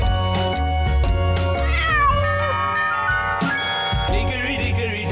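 A cat meows repeatedly and loudly over bright, steady children's music, its calls rising and falling in pitch.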